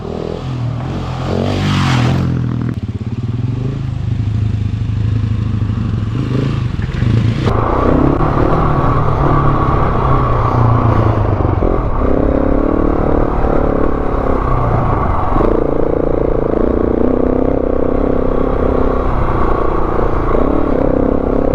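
A Husqvarna 701 Enduro motorcycle rides a track crossing in Victoria's high country, its loud, close engine droning steadily with shifts in pitch and some rattling as it moves along.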